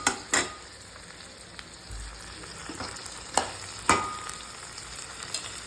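Tomatoes and onions frying together in a pan for vadakari, with a low hiss of sizzling broken by a few sharp scrapes and knocks of a spoon stirring, close and moderately loud, with no talking.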